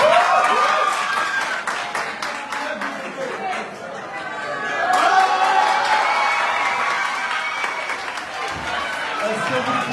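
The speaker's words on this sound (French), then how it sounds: "Est-ce que vous pouvez offrir un peu plus de tonnerre d'applaudissements pour ce président aussi?" Audience applause with clapping and crowd chatter at a televised debate on compulsory national-language teaching, a steady wash of hands filling the room over murmuring voices, swelling again midway.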